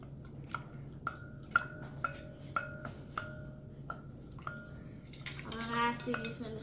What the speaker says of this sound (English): I'm going to put the milk in the sugar. Just like that. And now I'm going to stir it up.